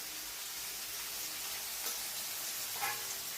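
Chicken pieces fry in a pan with salt, turmeric and garam masala, giving a steady, fairly quiet sizzling hiss throughout with a couple of slightly louder crackles.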